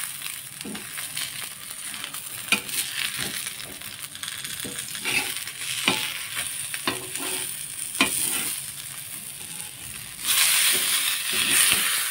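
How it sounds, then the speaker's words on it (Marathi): Fish frying in a pan until crisp, with a steady close sizzle broken by repeated spatula scrapes and clinks as the pieces are turned, and a louder hiss near the end. "छान अशी खरपूस भाजून घेतली."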